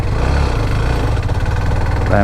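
A Hero Xtreme 125R motorcycle engine runs steadily in third gear at low speed, a continuous close, loud drone with a low rhythmic pulse throughout.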